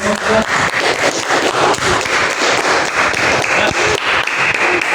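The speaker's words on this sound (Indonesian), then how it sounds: "Tepuk tangan dulu semuanya." Students in an Islamic studies classroom break into loud, sustained applause, a dense steady roar of many hands clapping close by for several seconds, with light chatter underneath.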